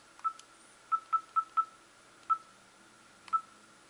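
Keypad dialing tones from an LG GS155a mobile phone as a number is entered: seven short, clear beeps in an irregular rhythm, faint and close, with quiet background in between.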